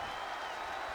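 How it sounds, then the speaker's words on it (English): A crowd in a WWE 2K20 wrestling match between two women roars and cheers in a steady, dense wash of sound with no single voice standing out. "The WWE Universe was cheering both women on."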